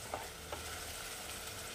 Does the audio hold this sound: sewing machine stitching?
no